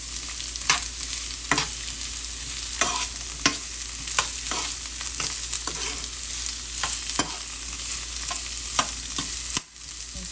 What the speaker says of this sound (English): I'm just gonna saute my onion and peppers.